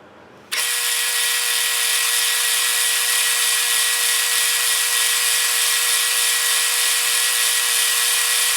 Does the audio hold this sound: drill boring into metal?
yes